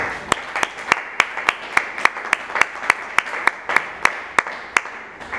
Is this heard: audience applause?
yes